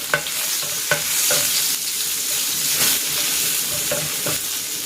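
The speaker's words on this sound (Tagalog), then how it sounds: "Magigisa na ako dito ng bawang." Garlic sautéing in a hot pan for a braised pork belly dish: a steady, bright sizzle runs throughout, broken by several sharp scraping knocks of stirring at irregular intervals.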